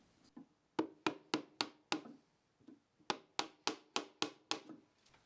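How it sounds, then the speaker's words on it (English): Chisel strikes chopping waste from between two holes in a wooden mallet head, heard as two sharp bursts of rapid knocks, six then seven, evenly spaced and close. "Now we can flip the block upright and chisel out the waste from between the 2 holes."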